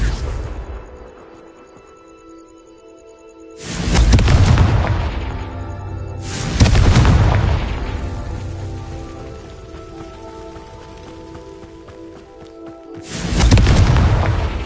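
Spell explosions from the Confringo spell in the Hogwarts Legacy video game: three loud booming blasts a few seconds apart, each with a sharp onset and a long rumbling decay, over steady rain-like ambient noise.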